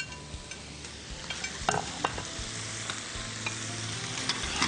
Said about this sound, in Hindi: पास्ता शामिल करके इसको मिक्स करना है आपने।